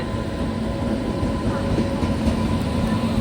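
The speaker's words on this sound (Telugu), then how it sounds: "కేఎస్ఆర్ బెంగళూరు నుంచి చెన్నై వెళ్ళే శతాబ్ది సూపర్ ఫాస్ట్ ఎక్స్ప్రెస్ ట్రైన్ ఇది" The Shatabdi Superfast Express running from KSR Bengaluru to Chennai rumbles past in a loud, steady roar of rolling wheels and carriage noise, with no clear clatter or horn.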